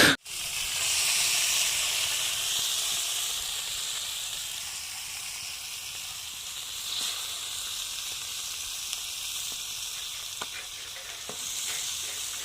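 Fish frying in a pan, starting with a sharp hit and then a steady, close sizzling hiss that slowly softens, with small pops and crackles and no one talking.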